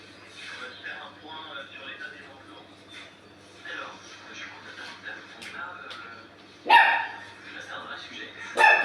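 Dogs bark in short, loud bursts near the end, with a few fainter yips earlier, all under steady indoor talk and game sounds.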